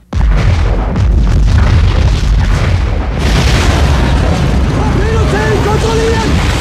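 A massive, sustained explosion for a submarine war film's sound design roars with deep booming rumble and crackling debris, loud and close, continuing without pause.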